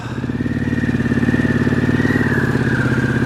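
Harley-Davidson Pan America motorcycle engine running close by, a loud, steady throbbing rumble with a rapid pulsing beat and a slight rise in pitch toward the end.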